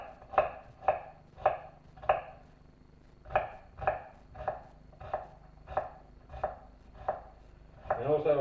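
Onion being chopped with a sharp knife on a board for potato and leek soup: about a dozen crisp, evenly spaced knocks near the mic, a short pause partway through, and a scraping rustle at the end.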